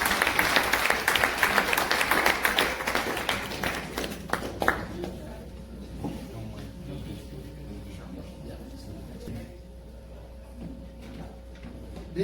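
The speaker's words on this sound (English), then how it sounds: "Please clap for him." Applause from a conference audience honoring an award recipient, a dense burst of clapping for the first few seconds that quickly fades into scattered claps and low room murmur.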